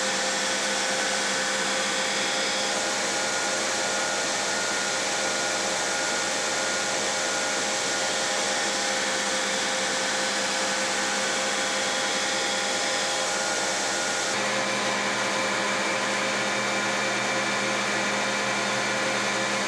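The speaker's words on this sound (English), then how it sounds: "I start with a 40 grit ceramic belt, then move to progressively finer belts to refine the lines." Belt grinder running a 40 grit ceramic belt against a scrap-steel knife blade, a loud, steady, continuous abrasive roar that carries through without pause and shifts slightly in tone partway through.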